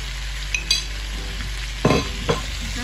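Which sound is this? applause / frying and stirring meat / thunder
frying and stirring meat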